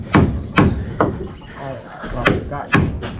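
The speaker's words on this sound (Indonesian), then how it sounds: "Itu Bang Komri mulai memaku." Nails are hammered into a wooden frame for a kitchen in a garden hut: five sharp, evenly spaced blows ring out close by over about three seconds, with insects chirping softly behind.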